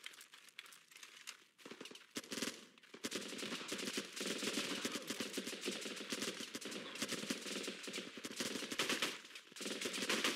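Rapid automatic rifle fire from the Running with Rifles video game, with dense, crackling bursts of gunshots that start sparse and build into near-continuous fire, close and loud.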